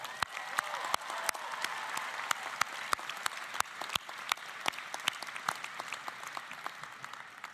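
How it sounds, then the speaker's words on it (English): Audience at a university commencement ceremony applauding steadily, a dense wash of many hands clapping with sharp individual claps standing out, loud and sustained throughout. "Let's give them a round of applause."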